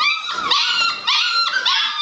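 Several six-week-old puppies whimpering and yipping close by in high, wavering cries that overlap continuously.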